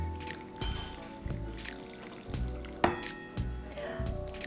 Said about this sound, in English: Then you put the bombilla inside, and then you pour the water.